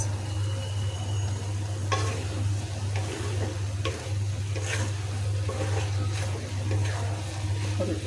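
Prawns fry in a pan with turmeric, chili powder and green chillies, giving a soft, continuous sizzle with occasional spoon scrapes and clicks over a steady low hum.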